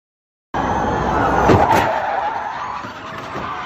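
A race car locks its brakes and slides into another car during a motorsport race, a loud sudden burst of engine and tire scrub with a harsh impact thump midway, then a sustained roar that slowly fades.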